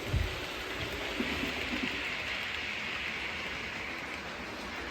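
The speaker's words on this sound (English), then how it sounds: "we'll send this whole funeral train off into the reversing loop" A model railway funeral train rolls into a reversing loop beneath a miniature cricket ground, giving a faint, steady rumbling hiss of wheels on track that continues evenly without talk.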